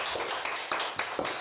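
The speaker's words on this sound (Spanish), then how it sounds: "Un aplauso para recibir a Luis." Steady applause from a live audience welcoming the poet Luis García Montero at an event in Arequipa, a dense continuous patter of many hands with no voices over it.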